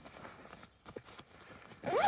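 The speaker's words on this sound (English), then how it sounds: "They're just simple, quite thin zips with a little bit of a paracord toggle there to grab onto." Thin zips with paracord toggle pulls on a Fjällräven High Coast Duffel 36 bag being drawn, a short rasping zip run near the end after quiet handling rustles, close and fairly loud.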